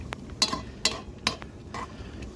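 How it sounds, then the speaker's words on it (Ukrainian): Carrots and onions for plov cooking in a pan on an outdoor wood stove, with a soft background sizzle and several sharp scrapes of a utensil stirring against the pan at a steady pace. "Частина моркви і цибульки у нас ось таким чином підсмажиться"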